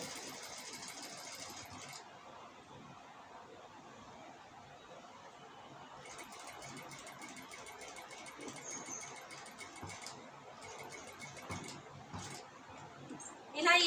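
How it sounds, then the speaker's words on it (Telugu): A sewing machine runs in faint bursts as it stitches the neck of a blouse, a soft rapid chatter starting and stopping several times, with a quiet voice talking in the background. "ఇలా పెట్టుకొని ఈ కార్నర్ వరకు కుట్టు వేసుకోవాలి."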